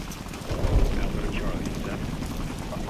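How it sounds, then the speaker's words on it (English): Steady rain hiss in Modern Warfare III fills the scene with a low rumble swelling briefly, and a voice speaks faintly underneath the constant downpour. "I can barely hear you guys over the rain."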